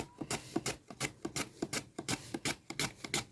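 An onion is rubbed back and forth over a handheld kitchen shredder, giving a steady run of about a dozen close, rasping strokes in a quick, even rhythm, with no talking.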